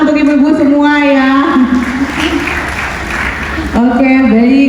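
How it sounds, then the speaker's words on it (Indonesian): A hall audience of women at a community discussion event in Batam gives a short burst of applause, framed by an amplified voice speaking just before and after the clapping. "tepuk tangan dong untuk ibu-ibu semua ya."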